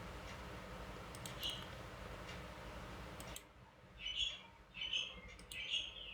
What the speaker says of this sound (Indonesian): Ini ada suara burung tetangga gua.